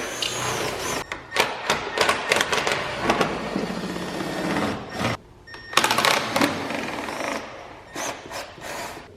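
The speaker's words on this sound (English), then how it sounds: "So we got our Milwaukee 1/4" impact with an 8mm socket. We're gonna remove our top bolts for our airbox cover." A Milwaukee 1/4-inch impact driver with an 8 mm socket backs out the airbox cover bolts on a Suzuki Reno, giving loud, close bursts of rattling hammering separated by short pauses and handling noise.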